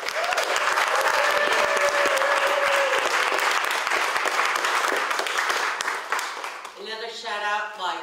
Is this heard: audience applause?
yes